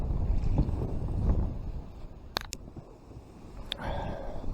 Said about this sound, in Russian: Ветер сильный, сносит.